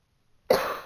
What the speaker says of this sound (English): I have a cough that just won't quit.